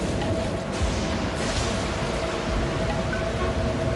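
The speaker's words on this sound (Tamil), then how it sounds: "மழையும் புயலும் ரொம்ப அதிகமா இருக்கு." Steady, dense hiss of heavy rain and storm wind in a cartoon, loud and unbroken throughout, with no voices.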